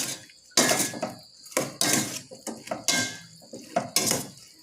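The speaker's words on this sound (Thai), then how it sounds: "เดี๋ยวขอค้นไข่เข้ากันกับน้ำมันข้าวป่าก่อนนะคะ" Egg being stirred with rice bran oil in a bowl, making a series of irregular clinking, scraping strokes of a utensil against the bowl, close and fairly loud, alone without talk.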